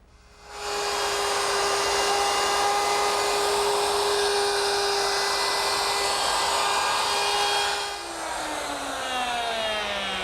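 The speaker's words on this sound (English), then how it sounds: "Now I'm going to change to a 1/4-inch bit and readjust the radius to cut the groove for the wall." A wood router fitted with a 1/4-inch bit whines at a high steady pitch while cutting a groove, loud and close for about seven seconds before the tone drops and winds down.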